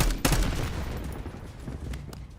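Gunfire cracks in Call of Duty: Black Ops 6 as a canister is shot, with a loud burst near the start followed by a rattling, fading spray of shots and a few lighter pops.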